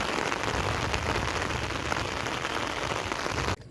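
Steady, dense rain pours down without a break as the sky darkens on a fishing outing, a loud, close, even hiss that cuts off abruptly near the end.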